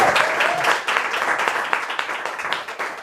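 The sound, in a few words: audience applause for poetry readers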